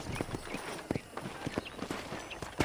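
Horse hooves clip-clopping in the Western video game Red Dead Redemption, a fairly quiet run of irregular hoof strikes on a ranch at a walking pace, with no talk over them.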